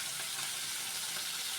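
Tilapia coated in salt and turmeric frying in mustard oil in a wok, a dense, even hiss of bubbling oil held steady throughout, close and without breaks, nobody talking.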